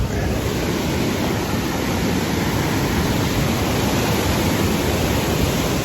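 Steady, loud roar of a waterfall on the Big Island of Hawaii, heard up close as a dense, unbroken rush of falling water with no talking.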